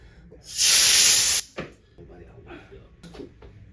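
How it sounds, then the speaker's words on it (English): A loud, steady hiss of hair spray at a barbershop lasts about a second, followed by a click and quieter rustling. "That's a lot of spray"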